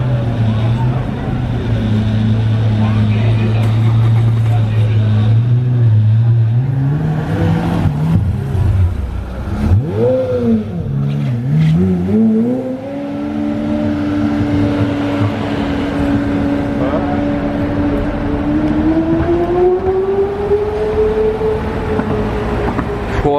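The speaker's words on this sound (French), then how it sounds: "il y a la Pagani Zonda LH qui arrive de Lewis Hamilton" A Pagani Zonda LH supercar arrives at a Top Marques event in Monaco, its engine a loud, close, deep rumble that dips and then climbs smoothly in pitch as it revs and pulls forward.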